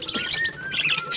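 Pet birds chirping around a dish of creamed boiled egg: several close, high tweets and a thin whistled call overlapping in quick, irregular bursts.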